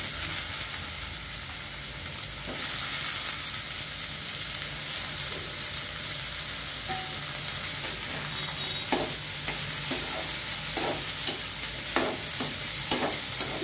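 Potatoes fry in a pan for a capsicum-potato curry, a continuous close sizzle, joined midway by a series of spoon clinks and scrapes from stirring, with no voices.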